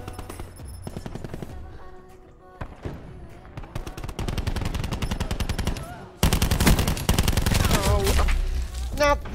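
Rapid automatic gunfire rattles in long, dense bursts in a shooter video game, growing louder and heavier partway through, with a few pauses between volleys.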